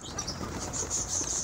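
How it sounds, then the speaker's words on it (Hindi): Pigeons gathering around scattered grain, a soft continuous flutter of many wings with faint chirps, close by and steady throughout. "जैसे ही दाना डाला सारे कबूतर इकट्ठे होना शुरू हो गए हैं"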